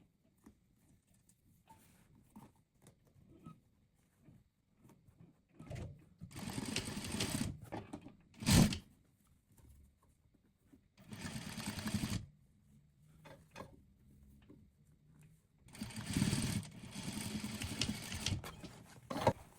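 A sewing machine stitches bust padding for a halter neckline, several short whirring runs of rapid stitching, close and moderately loud, separated by quiet handling between bursts.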